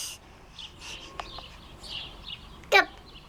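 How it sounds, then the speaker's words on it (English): A bird calls once in a short, bright burst of chirps outdoors, with a few faint earlier twitters and quiet ambient noise around it. "It's a bird."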